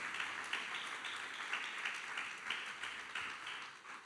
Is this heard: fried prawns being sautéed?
no